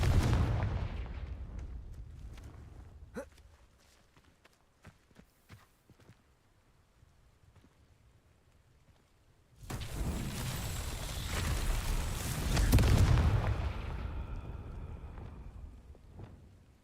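Confringo blasting-curse explosions in the Hogwarts Legacy video game, heard as heavy booming blasts with rumbling tails, a loud burst at the start and another long roaring explosion later after a quieter stretch.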